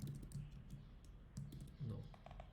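Keys clatter in short bursts as code is typed for a Ruby on Rails 7 project on a computer keyboard, close and fairly quiet, with soft clicks scattered between the runs of typing.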